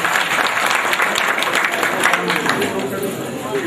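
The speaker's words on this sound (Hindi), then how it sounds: "ताली बजाना जरूरी है" Audience at a devotional music gathering clapping loudly and steadily, a dense close wash of applause with a murmur of crowd voices underneath.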